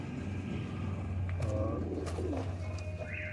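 Pigeons in a loft where a banded cross-breed pair is being set up: soft repeated cooing close by over a steady low hum, with a few light chirps and rustles.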